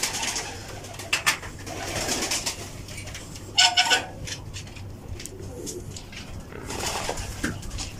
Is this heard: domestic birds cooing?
yes